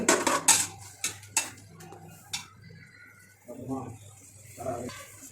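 Chopped tomatoes for chicken biryani are stirred and fried in a pan, with a cluster of sharp metallic clinks and scrapes of the utensil against the pan, followed by a quieter stretch where a person talks.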